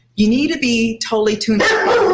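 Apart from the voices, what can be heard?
dog barking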